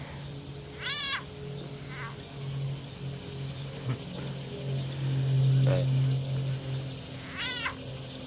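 Baby alligators give high, kitten-like chirping calls from grass outdoors, a few separated chirps heard at moderate distance over a steady low hum, with a brief spoken word.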